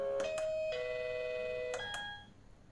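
A T114 wireless calling system sounds its notification chime: clear, sustained electronic tones played as two struck notes, then a second pair at a different pitch, fading at the end with no voices.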